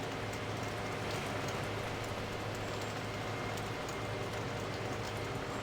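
Steady rain falls in the Farming Simulator video game, a constant dense hiss of drops with a low engine hum beneath, continuous and even throughout.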